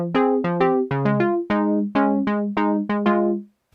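A synth patch plays a quick melodic phrase of about a dozen plucky, harmonically rich notes, oscillator 1 with an altered wave shape layered over a square-wave oscillator 2, dry and upfront.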